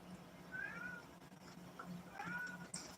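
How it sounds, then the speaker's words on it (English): A cat meows indoors in a few separate calls, close and clear over a steady low household hum, with no one talking. "I gotta let the cat out, guys."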